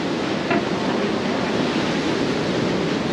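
Ocean waves wash into a rocky bay in Tayrona National Park, Colombia, as a steady, fairly loud surf roar with wind and no talking.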